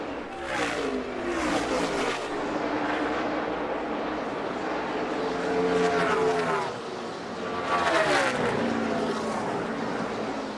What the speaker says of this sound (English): Kyle Busch going to come around to lead his 34th lap